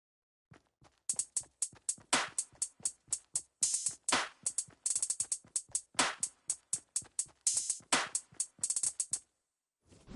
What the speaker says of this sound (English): So this is what the hi-hat sounds like.